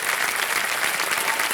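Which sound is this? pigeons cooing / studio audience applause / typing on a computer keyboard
studio audience applause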